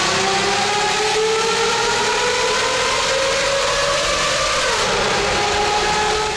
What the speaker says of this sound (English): even a humble S-Class from 30 years ago can be made to sound incredible with the right pipes on it